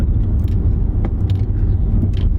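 A small car with a CVT transmission drives in sport mode, heard from inside as a loud, steady low engine and road rumble with faint light rattles.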